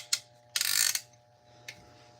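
A piston ring compressor tightened around a piston during crankshaft bearing work, giving a short ratcheting burst between single sharp metallic clicks, close and fairly quiet over a steady low hum.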